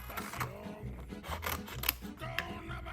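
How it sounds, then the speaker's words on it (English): Scissors cut vanilla envelope paper in half with a quick series of close, crisp snips and rustling paper, several cuts in a few seconds. "You're going to take a piece and cut it in half."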